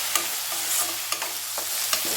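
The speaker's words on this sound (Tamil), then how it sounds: "கோல்டன் கலர் வர்ற அளவுக்கு நல்லா வதக்கிக்கோங்க." Onions sauté in a pan for Chettinad quail gravy, with a soft sizzle broken by a few sharp spatula scrapes and stirs, close up and without any talking.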